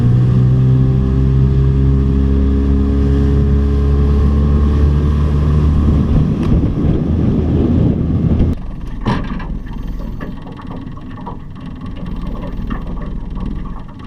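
A loud motorboat engine drones steadily, its pitch shifting as it pushes across rough, whitecapped lake water, then drops into choppier, uneven splashing and engine noise.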